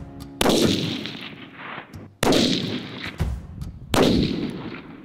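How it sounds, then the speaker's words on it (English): Three loud rifle shots fired during an aoudad hunt in Texas, each a sharp crack followed by a long rolling echo, spaced about two seconds apart, with a quiet setting between. "Shots."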